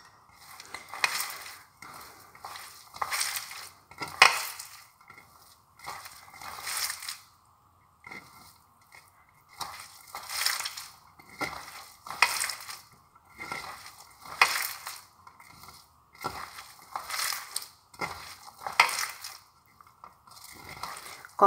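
Chopped onion mixed by hand with chili powder, cumin powder and mixed spice powder for fried chops: soft, squelchy squeezing and rustling in repeated bursts, fairly close, with no talking.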